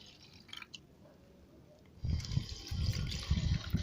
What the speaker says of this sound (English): No, pour the water first.